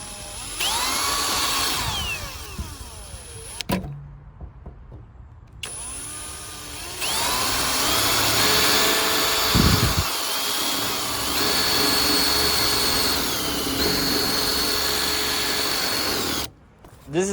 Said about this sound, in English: I'm gonna drill out the top hole in the top